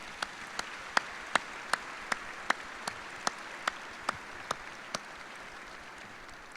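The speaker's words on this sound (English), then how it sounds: "please join us in a round of applause for all of our distinguished guests" Guests at an Air Force base change of command ceremony applaud: distinct, evenly spaced claps ring out close by over a faint, hushed crowd background.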